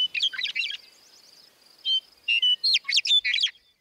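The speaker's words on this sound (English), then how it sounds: "birds on the prairie tend to have much more rapidly trilled," A prairie songbird delivers rapidly trilled, virtuosic phrases: several bursts of fast chirping trills with short pauses between them, clear and close against a quiet background.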